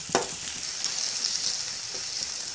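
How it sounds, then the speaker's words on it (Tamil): Ginger garlic paste and onions sauté in a kadai with a steady, bright sizzle and a couple of brief stirring scrapes, close and continuous with no talking. "அடி பிடிக்காமல் வதக்கி விடுங்க"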